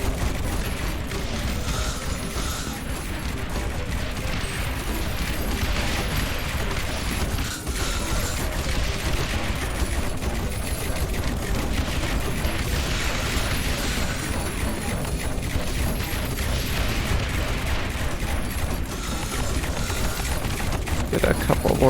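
Mortar towers keep firing in Rogue Tower, a dense, steady barrage of thumps and crashes that runs unbroken under game noise for the whole stretch.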